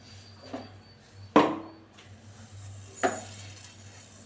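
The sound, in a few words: cumin seeds added to pan for rasam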